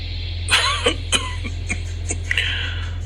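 A person coughs several times in quick, dry bursts, close by, followed by a short throat clearing, over a low steady electrical hum.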